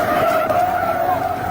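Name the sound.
truck skidding and crashing into a stopped vehicle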